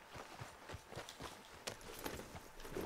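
Horse hooves clip-clop in a steady walking rhythm in the Red Dead Redemption 2 video game, faint and close, with a few sharper knocks among the footfalls.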